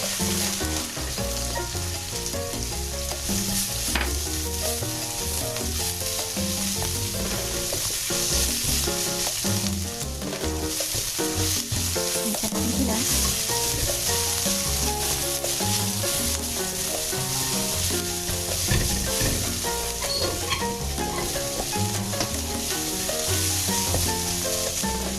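Onion sizzles and fries steadily in a hot pan for tinolang manok, a continuous loud crackle with occasional stirring, no voices.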